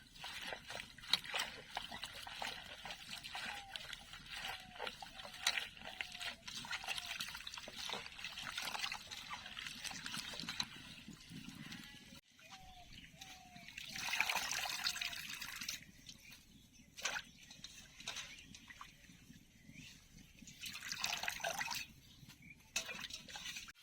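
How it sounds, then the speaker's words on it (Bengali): Red and green leafy greens being scrunched and rinsed by hand in water, with soft continuous sloshing and trickling, drips between, faint and close throughout. "ভালো করে কচলে কচলে ধুইতে হবে লাল শাক আর সবুজ বেরিয়ে যাবে ধুতে ধুতে কচলাইতে হবে শাকগুলো"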